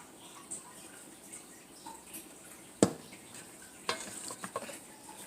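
Turkey bacon fries in a pan as a baked-potato topping, a soft steady sizzle with a couple of sharp clatters and scrapes of stirring, close up, no talk.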